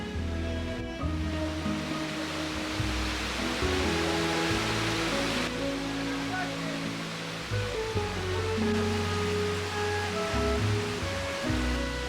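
Suptadhara waterfall in Sitakunda pours in a steady, dense rush of water during the monsoon, heard close and continuous, with some shifting tonal sounds underneath.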